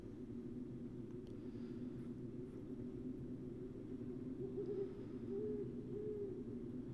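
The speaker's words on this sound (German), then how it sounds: "Hört man auch eine Eule im Hintergrund?" A faint owl hoots in the background of the video game Oddworld: Abe's Exoddus, its soft calls floating over a steady low ambient hum; no one speaks.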